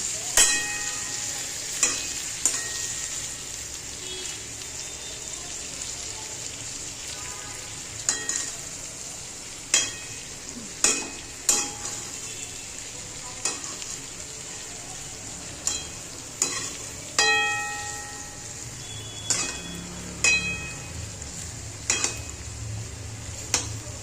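Capsicum bhaji cooking in a pan on a gas stove, a steady sizzle of frying broken by frequent scraping stirs and spoon clinks against the pan, close and continuous, with no voices.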